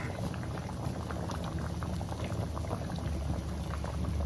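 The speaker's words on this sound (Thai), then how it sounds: "ระหว่างที่เราเชื่อม ถ้าเกิดมีฟองขึ้นมา ก็สามารถช้อนฟองออกได้ตลอดเรื่อยๆ เลยนะคะ" Sweet potato pieces simmer in thick sugar syrup as they are candied, a loud, close, continuous bubbling boil that stays steady throughout.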